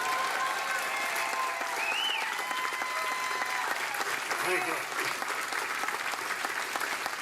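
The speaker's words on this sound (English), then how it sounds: "Now you can applaud." Sustained audience applause at a 2017 Veterans Day observance, a steady dense clapping from a crowd that holds evenly for several seconds, with a brief spoken thank-you over it.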